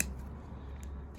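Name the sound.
scissors cutting a hard Sarracenia leaf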